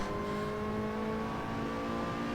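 Lotus Exige engine in the Assetto Corsa racing game holding a steady, loud rev, with sustained harmonic whine from the motor running continuously throughout with no pause.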